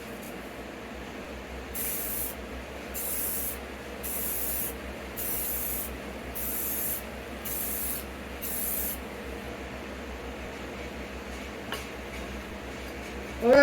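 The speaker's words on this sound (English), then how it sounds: "now we're spraying." An aerosol spray can paints a guitar headstock in about seven short, evenly spaced hissing bursts, close and crisp over the low steady hum of a running box fan.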